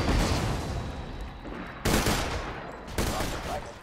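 Gunfire erupts in Borderlands 2: dense, loud volleys of shots crackle and boom, with fresh bursts hitting sharply at intervals as the firing continues.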